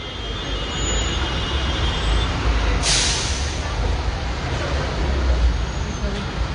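Vehicle pulling into a busy highway toll plaza amid a long traffic jam, with a steady low engine and road rumble, a brief hiss of air brakes, and people talking nearby throughout.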